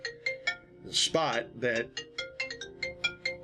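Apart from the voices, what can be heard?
phone ringtone ringing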